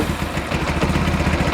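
Kawasaki KZ1000 police motorcycle idling close by, a loud, steady, lumpy low rumble with regular rapid engine pulses and no talk.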